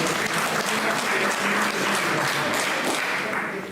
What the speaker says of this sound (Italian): Un applauso a Pinuccio.